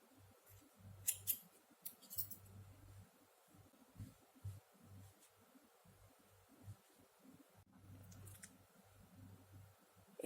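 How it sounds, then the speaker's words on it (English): Scissors snip through crochet yarn, giving several quick, quiet metallic clicks and short bursts in close succession, then sparser single snips, with no talking. "I will just chain 1 and cut the yarn"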